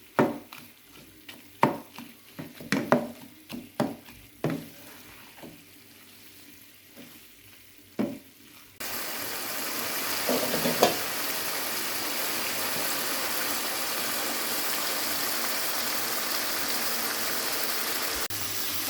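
Minced meat (keema) and capsicum being fried and stirred in a pan: scattered scrapes and clinks of a spatula at first, then a loud, steady, hissing sizzle that carries on to the end.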